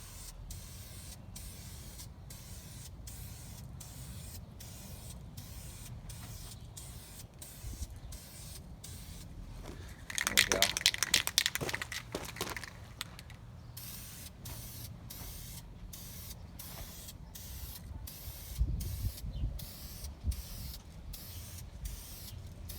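Aerosol spray paint applied to the spark arrestor of a 1977 Suzuki TS250 exhaust, steady close hissing bursts of spray, one louder stretch in the middle and lighter passes later, with no speech.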